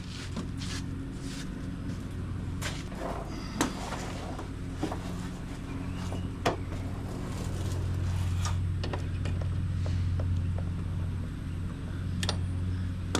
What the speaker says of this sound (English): if you hear a lawnmower running in the background